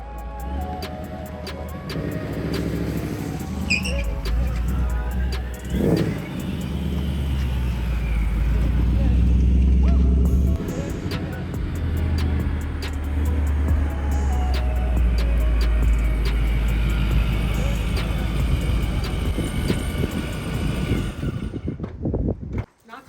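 A Ford Mustang engine rumbles low and steady while being driven, swelling louder in the middle with a brief rev, before cutting off abruptly at the end.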